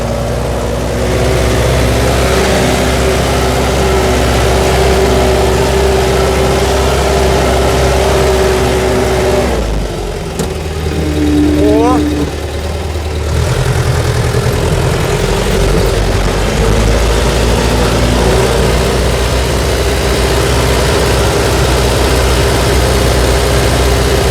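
A heavy T-40AM tractor engine runs loud and steady while ploughing, its low drone briefly dipping in the middle before returning at full strength.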